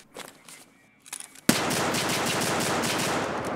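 AUG rifle sprayed on full auto in a video game, a loud, sustained rapid burst of gunfire that cuts in abruptly after a few quieter clicks and holds steady to the end.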